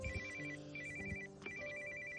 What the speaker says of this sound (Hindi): मुझे फोन कर रहा है